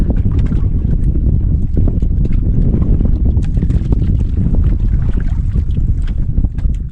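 Strong wind roars steadily over a small fishing boat out at sea, a dense broadband rush with gusty buffeting against the microphone, loud and continuous throughout.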